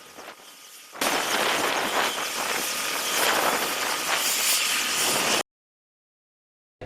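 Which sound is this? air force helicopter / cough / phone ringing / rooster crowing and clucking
air force helicopter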